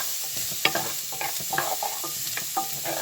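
Garlic sizzles and is stirred in a hot pan alongside steak, a steady close frying hiss with occasional scraping stirs and small pops.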